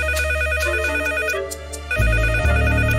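Telephone ringing in a children's cartoon, a loud, close, repeated electronic ring with bright tones, joined near the end by a lower musical sound.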